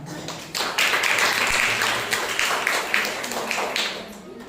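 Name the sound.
audience applause in church service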